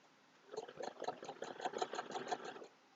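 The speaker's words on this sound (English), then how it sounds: "So I'm going to just start my sewing." Domestic sewing machine stitching a Christmas table runner quilt block, a fast rhythmic mechanical chatter that starts up, runs steadily for about two seconds and stops, heard close.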